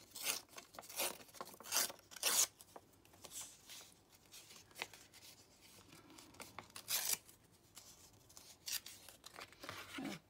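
Paper being trimmed for paper clusters in a craft session: quiet, intermittent snipping and rustling strokes, a handful of short close bursts separated by pauses, with no talking.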